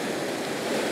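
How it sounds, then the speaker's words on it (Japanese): Ocean surf breaks on the shore along a coastline where anglers fish, heard as a steady, loud rushing wash of water with no talk. "波上がりましたね"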